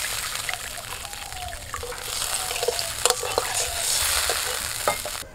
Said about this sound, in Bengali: মশলাটা একটু কষিয়ে নিয়ে ওর মধ্যে দিয়ে দিচ্ছি জল।